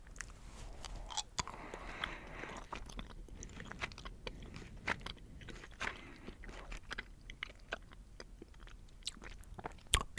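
Close, quiet chewing and biting of strawberry Easter Peeps marshmallow candy, with soft, sticky mouth sounds and small crunchy clicks running steadily with no talking.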